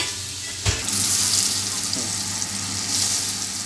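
Pointed gourd pieces go into hot oil with a sudden burst, then fry with a broad, steady sizzling hiss that swells and fades, close by.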